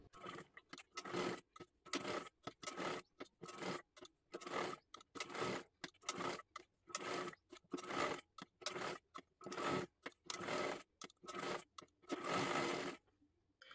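A sewing machine stitches a blouse in short repeated bursts of rapid needle clatter separated by brief pauses, close and steady.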